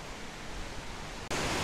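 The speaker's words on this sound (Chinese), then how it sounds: "哇，看到瀑布了啦！" Feilong Waterfall in Pingtung, Taiwan, pours over shale into clear water with a dense, steady rushing hiss that suddenly grows brighter and louder near the end.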